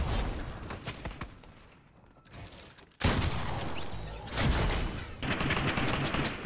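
Gunfire in the video game Fortnite comes as rapid, dense bursts of shots, with a short quieter lull before a loud barrage resumes and continues to the end.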